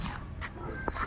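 A dog gives short yips and whimpers at a house where several dogs are fed, brief close calls over background noise and faint talk.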